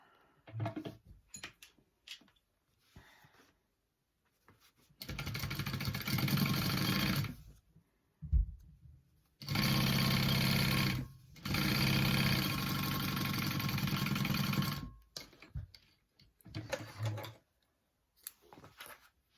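Sewing machine stitching a quarter-inch seam on a clutch wallet, several sustained bursts of steady motor whir separated by pauses, with quieter handling clicks between runs.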